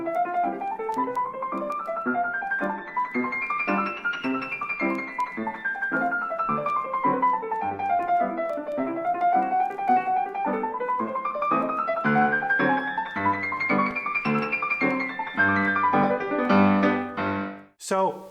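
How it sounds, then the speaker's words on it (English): Fast 1969 piano recording of Czerny's Etude Op. 299 No. 28, with rapid continuous runs sweeping up and down the keyboard at an even, driving tempo, ending in a few final chords. "1969 version of Czerny's Etude Opus 299 number 28"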